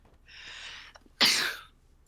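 A single sharp, loud sneeze bursts out after a softer hissing intake, then fades quickly into quiet.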